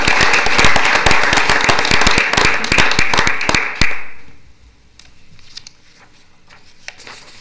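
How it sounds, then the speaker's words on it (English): An audience's round of applause at a Brighton bicentennial proclamation ceremony: loud, dense clapping that rolls steadily for about four seconds, then quickly fades into a quiet room with a few scattered claps. "I think a round of applause for all of them would be in order"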